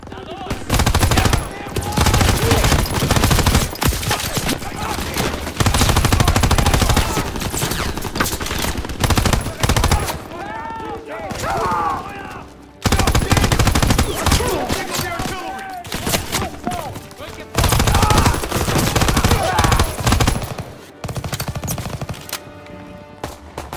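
Bursts of heavy machine gun fire rattle in long continuous volleys with brief gaps in a Call of Duty WWII street battle, loud and close, with shouted soldier voices mixed in.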